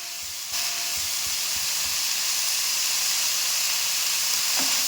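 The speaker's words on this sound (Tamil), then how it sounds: "இப்போ தக்காளியும் கருவேப்பிலையும் போடுறோம்" Tomatoes and curry leaves drop into hot oil in a pan, setting off a sudden loud sizzling hiss that holds steady and close, with a few faint clinks, no one talking.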